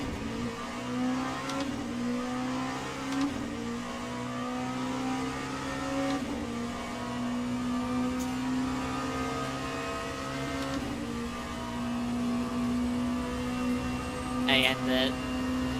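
A hypercar engine in a Le Mans racing game holds a steady, droning note with slight pitch shifts as it passes, continuous throughout alongside other race-car engine sounds, with a voice talking over it.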